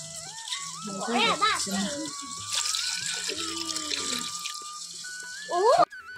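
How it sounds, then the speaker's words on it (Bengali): Shrimp are rinsed under a running tap in a sink, water splashing and rattling nearby while voices talk over it, ending in a brief louder splash. "তো ভুসো চিংড়িগুলো আমি এখন পরিষ্কার করে ধুয়ে নেব"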